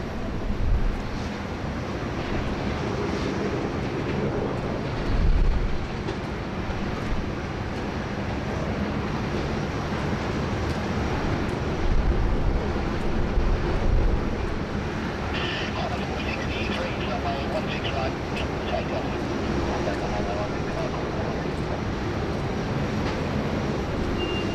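An Atlas Air freighter jet takes off at Sydney Airport, a steady loud engine roar rolling on for the whole span with faint voices now and then beneath it.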